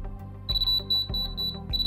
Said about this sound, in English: if I turn on the receiver, you can probably hear the beeping